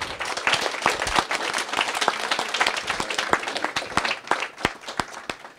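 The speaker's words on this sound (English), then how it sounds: "Let's give our panel a nice round of applause." Audience applauding a panel of alumni at a career event: dense, steady clapping with sharp individual claps standing out, sustained throughout and fairly close.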